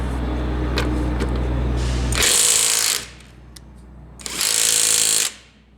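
A Makita 1/2 inch impact wrench, a new 2021 model, fires two loud rattling bursts of about a second each while removing bolts, separated by a short pause with faint background noise.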